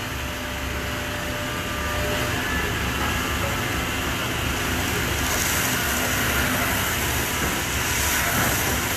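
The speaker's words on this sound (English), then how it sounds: "Now he's sanding the surface area on the top." A belt sander working the surface of a bent wooden chair back in a furniture workshop, a loud, steady, hissing roar that holds unbroken throughout, close by and with no speech.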